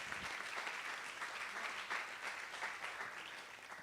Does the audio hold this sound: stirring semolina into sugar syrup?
no